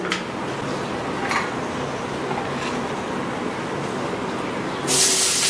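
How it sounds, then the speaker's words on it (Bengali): Pumpkin pieces fry in oil in a kadai wok, giving a steady close sizzling hiss with a few brief crackles that swells to a louder, sharper sizzle in the final half second. "আর একটু কড়াইয়ের মধ্যে তেল দিয়ে দেবো। কুমড়োটা একটু ভেজে দেবো"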